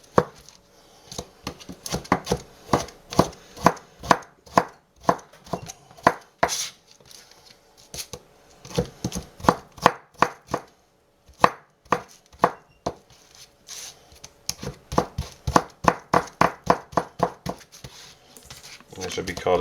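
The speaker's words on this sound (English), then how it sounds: "you lay them down, you cut them lengthwise" A kitchen knife slices vegetables lengthwise into thin julienne strips for a homemade California sushi roll. Close, quick strokes hit a cutting board in steady bursts, with a few brief pauses between runs.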